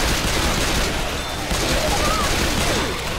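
Dense gunfire in Left 4 Dead 2, with several weapons firing continuously and overlapping in a loud, chaotic barrage, and a voice talking over it.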